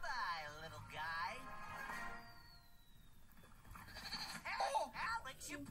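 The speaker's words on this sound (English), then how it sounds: "Where'd the goat come from?" A Minecraft goat bleats several times in wavering cries, fairly faint, mixed with background game sounds and a possible voice.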